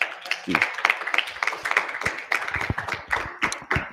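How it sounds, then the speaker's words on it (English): Studio audience clapping for parents during a discussion on young people communicating with parents, a close, uneven burst of individual claps with a voice briefly heard among them. "Maybe just give them a round of applause, man."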